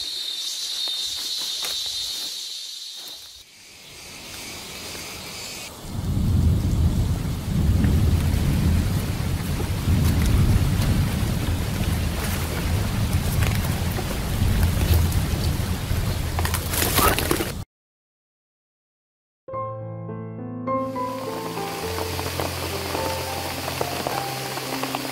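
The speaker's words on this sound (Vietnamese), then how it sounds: "Mình đang đi đặt bẫy thì bỗng dưng trời nó mưa ầm ầm xuống" Heavy rain pours down steadily in the rainforest with rumbling thunder mixed in, a dense loud roar that runs for most of the stretch, breaks off into brief silence, then resumes alongside other tonal sounds.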